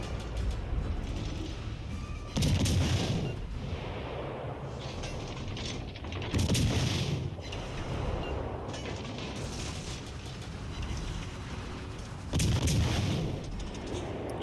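Naval gunfire from destroyers in World of Warships Legends, with three heavy booming salvos spaced a few seconds apart over a constant rumbling background of ship and battle noise.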